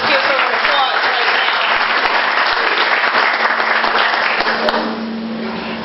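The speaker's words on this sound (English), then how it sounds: "So let's give her an applause right" Loud, sustained applause from an audience at a volunteer appreciation luncheon, dense clapping throughout that thins slightly near the end, with faint voices mixed in.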